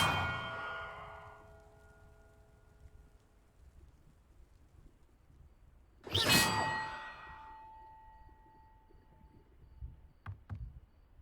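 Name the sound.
bells being rung in the video game Hogwarts Legacy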